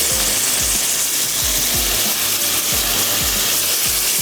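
Tomato masala sizzles and fries loudly in a pan, a dense continuous crackle with rhythmic scraping strokes of stirring running throughout.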